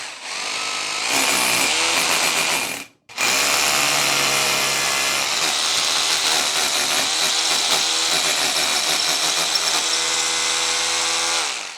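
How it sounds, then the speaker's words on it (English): A power drill whines loudly and continuously, stops briefly, then resumes with a strained, grinding tone as it bores through a door frame to fit a concrete screw. "I'm going to drill through."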